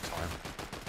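Shotgun blasts in a video game, a quick burst of loud, close gunfire reports packed into under a second.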